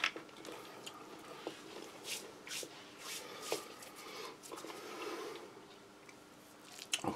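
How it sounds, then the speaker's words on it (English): Crunchy nuts from a 2015 British Army ration pack being chewed close up, a quiet run of crisp, irregular crunches and bites lasting several seconds with no talking. "But certainly plenty of crunch, plenty of crispness still there in those nuts."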